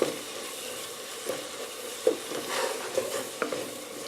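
Ground beef fries in a pot for a German soup while a wooden spoon stirs and breaks it into crumbles, giving a soft, steady sizzle punctuated by light scraping strokes, close and quiet with no talking.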